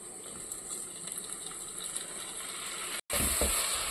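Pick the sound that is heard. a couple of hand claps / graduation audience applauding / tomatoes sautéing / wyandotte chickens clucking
tomatoes sautéing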